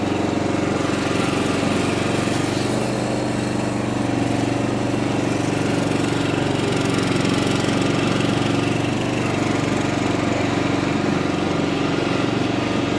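A Toro TimeCutter 16-44 zero-turn mower with a 44-inch deck runs at a steady, loud, close engine drone with no pauses and no voices.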